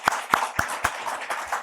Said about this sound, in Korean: 우리 위로의 박수로 함께 하겠습니다.